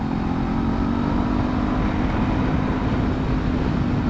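A Honda CB500F motorcycle engine runs steadily while riding through a corner, a continuous loud drone with rumbling low end and steady wind noise, no speech.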